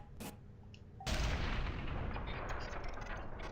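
A distant explosion in the space game Tacoma hits suddenly as a heavy, loud booming rumble that keeps roaring steadily for the rest of the moment, with no talking over it.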